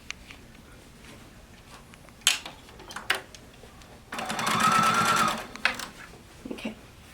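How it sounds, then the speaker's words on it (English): Sewing machine stitching quilt binding, a single continuous run of about a second and a half that stands out clearly over quiet handling noise, with brief knocks and rustles of fabric before and after. "I'm only going to sew a few inches here"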